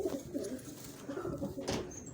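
A young long-distance racing pigeon coos softly at close range in a brief low, throaty burble, with faint background noise.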